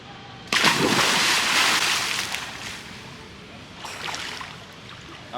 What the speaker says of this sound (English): I'm trying to think what the most impressive dynamic pool entry I can do is.